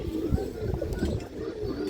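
Army breed pigeons, among them a Kajla-marked female, give soft, low cooing phrases nearby in a steady murmur, fairly quiet and with no talk.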